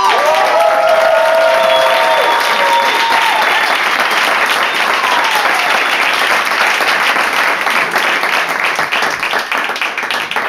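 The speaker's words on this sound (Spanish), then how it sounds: "fuerte el aplauso para Esther Jimeno." A comedy club audience breaks into loud applause for a stand-up comedian, dense clapping with a few whoops at the start, holding strong and then slowly thinning toward the end.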